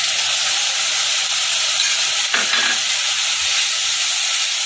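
Ground spice paste fries in a pan for a bhetki fish kalia with potato and pointed gourd, producing a loud, continuous close-up sizzle with one brief scrape midway and no speech.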